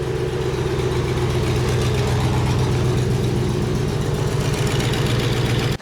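A Toyota Celica GT-S with a fiberglass wide-body kit idles steadily after starting, its engine running loud and near at an even, unchanging rumble throughout, with no one speaking.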